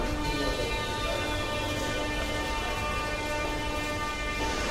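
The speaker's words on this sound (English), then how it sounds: "that was the shortest metro in the entire world, the Dnipro metro" A Dnipro metro train pulls into its terminal station, a steady loud rumble of wheels and motors with a sustained tonal whine running throughout, close and continuous with no speech.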